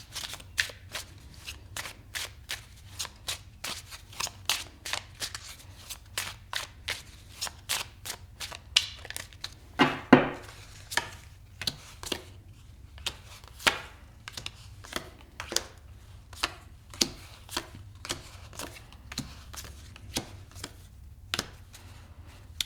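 Tarot cards are shuffled in a quiet room, a long run of sharp, close riffling snaps and taps in uneven rhythm, one slightly louder burst midway, with no talking.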